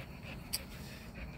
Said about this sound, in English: chilling with my dog, you know, throwing the ball a little bit, throwing the ball around for her